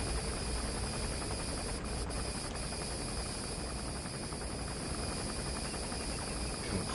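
A helicopter gunship in a Metal Gear video game gives a constant loud whirring roar with a hissy noise bed, steady throughout with a few faint blips.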